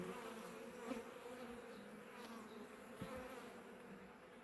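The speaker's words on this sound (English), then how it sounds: "the bees got stirred up pretty good because of that fast movement" Stirred-up honey bees buzz continuously in an open hive during an inspection, a dense, steady droning hum with a few closer individual buzzes passing by.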